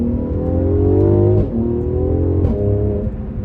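A Mercedes C43 AMG in sport plus with manual mode and the exhaust button engaged, its engine and exhaust droning loudly and close, with two brief gear-shift dips and pops breaking the steady rising pull.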